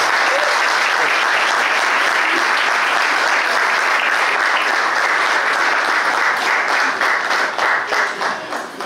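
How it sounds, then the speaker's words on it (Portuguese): Dense, loud applause from diners at a dinner held for a village band, a continuous roar of clapping that holds steady before tapering off at the end. "Uma grande salva de palmas."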